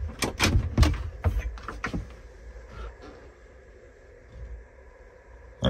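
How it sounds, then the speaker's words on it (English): The screen door on the rear entry of a 2004 Chinook Destiny Class B+ motorhome rattles and bangs shut in a quick cluster of sharp knocks, then a quiet, hollow stretch follows inside, with a faint click near the end. "A screen door on the rear entry."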